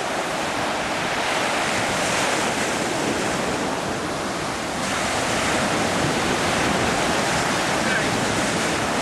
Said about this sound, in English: Wash it out with the waves.